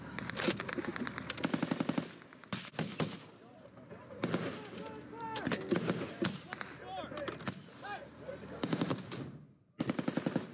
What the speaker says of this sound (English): What are they shooting at? PKM, it sounds like.